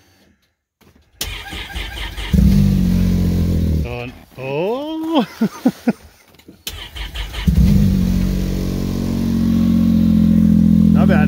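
A car engine is cold-started in freezing weather, about 19 to 24 below zero. A cranking surge catches into a loud, rough running engine that settles into a steady idle, with a brief exclaimed voice in the middle.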